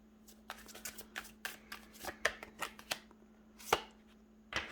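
Tarot cards shuffled by hand during a reading, a run of crisp close riffling snaps and flicks in quick uneven succession, some cards slipping out, with no talk.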